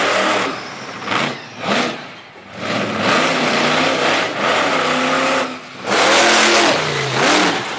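A monster truck fitted with big Goodyear tires revs loudly on soft dirt at a Durham, Connecticut event, its engine surging and dipping repeatedly in powerful close roars throughout.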